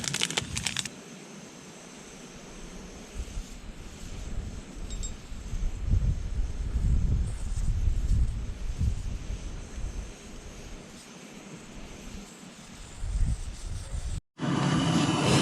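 Gusty wind at a campsite in the Harz forest, a low buffeting roar that rises and falls against the microphone, with faint rustling and a brief clink near the end.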